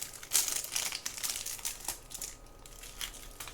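A Kinder Bueno White wrapper is torn open up close, giving bright plastic crinkling and rustling in uneven bursts that fade toward the end.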